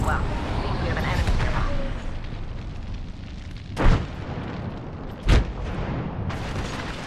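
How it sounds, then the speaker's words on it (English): A thermite grenade goes off in Apex Legends with two sharp, fairly loud bursts standing out over a steady background rumble and game noise. "Throwing thermite grenade."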